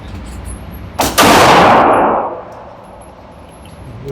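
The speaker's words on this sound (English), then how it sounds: "I'm shooting quite a bit low, so let's try that right there." One loud, sharp report from a Great Lakes Synergy firearm fired at targets, followed by a fading ring and then quiet outdoor background, with no talking.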